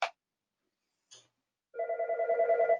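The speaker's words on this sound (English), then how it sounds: "I'm getting phone calls here at the bank at 7 o'clock at night" A telephone rings in an office at a bank, first with two short chirps and then a sustained, steady warbling tone, clear and alone with no talk.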